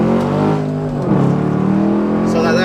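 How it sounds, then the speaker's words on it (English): Up close, the V8 of a Chevrolet Camaro SS with about 100,000 miles roars through a hard first-gear pull, its engine note rising steeply in pitch as it revs toward the top of the gear. "But here we go, first gear pull."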